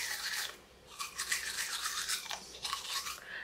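A toothbrush scrubs teeth during a natural teeth-whitening routine, with close, wet hissing strokes in uneven bursts and short pauses, loud and up close, with no talking.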